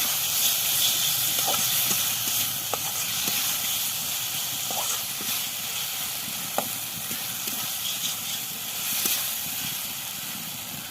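Potatoes frying in hot oil in a pan for an aloo baingan curry, a steady loud sizzling hiss with occasional small pops and crackles throughout.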